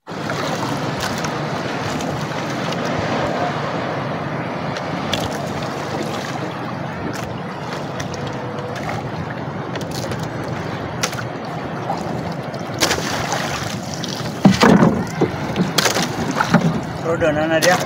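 Strong storm wind roars steadily over the sea during night fishing from a small boat, with rain and water sloshing, a continuous broadband rush that swells louder and gustier near the end.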